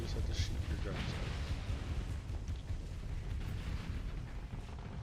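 Spaceship guns blaze during a space battle in the game Starsector, a dense barrage of booming, crackling shots and explosions that runs continuously, with a voice speaking over the combat.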